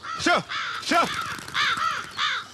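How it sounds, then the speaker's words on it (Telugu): Several crows caw close by in a short series of four harsh, separate calls, with no voices over them. "కాకులు"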